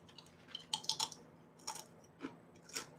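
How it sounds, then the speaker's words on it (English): Crunchy baked surimi and nori chip being bitten and chewed up close, giving a handful of sharp crackly crunches spread irregularly over a few seconds with quiet pauses between them. "It's a chip. It's crunchy."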